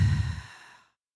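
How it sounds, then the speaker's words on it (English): A single loud exhale pushed out through the mouth, a breathy rush about a second long that trails off into silence. "I want you to exhale loudly through your mouth."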